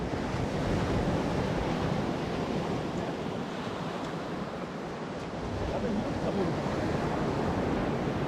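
Ocean waves wash against a rocky coast on Maine's Acadia shoreline, a constant loud roar of surf mixed with heavy wind buffeting the microphone, with no clear breaks.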